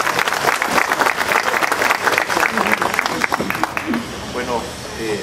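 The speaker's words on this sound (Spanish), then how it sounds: "El aplauso del pueblo de Villa El Salvador." A crowd in Villa El Salvador, Peru, applauds steadily throughout for a speaker at a public event, dense clapping with some voices mixed in, tapering slightly near the end.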